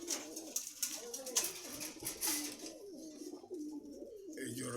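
Pigeons coo repeatedly at a busy pigeon market in Meradia Bazar, Khilgaon, Dhaka, with soft throaty calls overlapping against a background of faint market bustle and distant voices.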